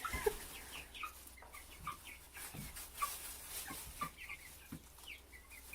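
Chickens peck at the floor of a new coop, with scattered soft taps and clucks around them, faint and close, in an otherwise quiet space with no talking.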